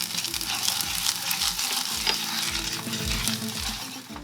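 Ginger garlic paste and garam masala frying in hot oil over cumin seeds, a steady loud sizzle with a spoon stirring and scraping the pan in repeated strokes throughout.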